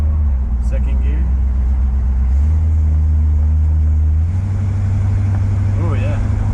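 A Chevy Nova with a new Turbo Hydramatic transmission pulls hard in second gear, its loud engine droning steadily with rising pitch steps, and people talk over the cabin rumble.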